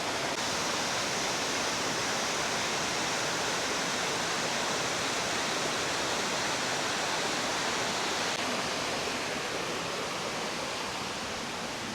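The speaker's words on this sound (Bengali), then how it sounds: "চমৎকার একটা ঝর্ণা ভাই চমৎকার" A waterfall in the Sylhet hills near the India border roars as a steady, dense wash of falling water, loud and close throughout with no voices.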